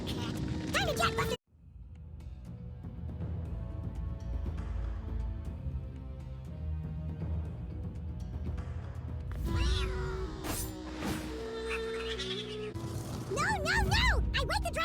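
A cat in the animated Young Justice series yowls and meows a few times near the start and again near the end, with dialogue and dramatic score around it.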